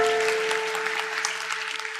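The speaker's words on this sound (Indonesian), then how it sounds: "Kasih tepuk tangan untuk Tuhan Yesus." Church congregation clapping during an Indonesian sermon, a brief, moderate patter of hands over a sustained musical tone in the background.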